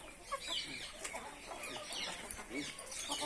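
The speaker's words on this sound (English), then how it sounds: "I love these birds" A flock of chickens at a farm sanctuary cluck and chatter steadily, their scattered calls overlapping close by, with someone speaking quietly under the birds.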